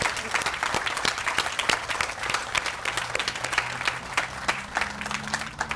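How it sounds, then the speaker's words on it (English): A crowd at a garden party applauds with dense, sustained clapping that stays even throughout, with faint murmuring mixed in underneath. "You can applaud."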